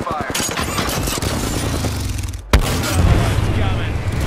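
Rapid gunfire in the shooter Apex Legends, a dense burst of repeated shots for a couple of seconds, then a sharp loud crack and rumbling booms with heavy, chaotic noise, with voices talking over it.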